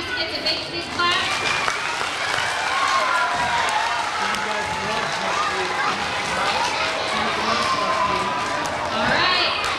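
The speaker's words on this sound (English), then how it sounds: "can you give all these kids a big please clap?" A crowd of children at a school show claps and cheers for classmates, with continuous applause mixed with excited young voices shouting and calling out throughout.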